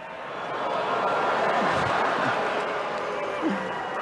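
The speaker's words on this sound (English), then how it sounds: "Did you hear the crowd's reaction?" Crowd at a celebrity roast of Tom Brady reacting to a joke with a broad, sustained murmur of laughter and chatter across the room, steady and moderately loud throughout.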